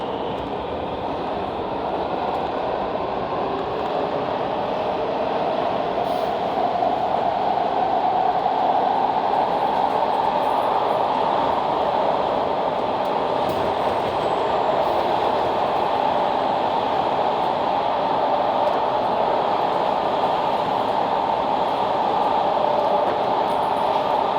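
A WMATA 6000 series Alstom subway train on the Yellow Line heard from inside the car, a continuous loud rumble and roar of wheels and motors, steady throughout with a faint whine, no talking.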